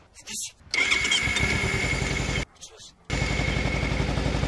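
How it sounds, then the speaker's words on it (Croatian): A Kawasaki Versys X 300 motorcycle engine cranks and catches twice, each start followed by a loud, rapid idling rumble, close up. "ajmo poslušati zvuk ovoga motora"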